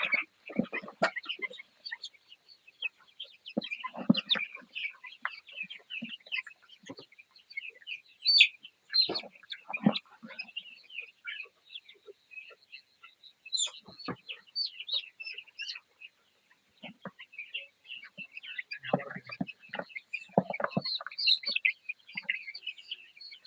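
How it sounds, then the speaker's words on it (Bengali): Many 21-day-old chicks cheep and chirp continuously at a farm while their beaks are trimmed, a dense chorus of high peeping with scattered louder clucks and handling bumps, fairly close and steady throughout. "দেখাও কিভাবে মুরগির মুখ ছেঁকা দেওয়া হয়।"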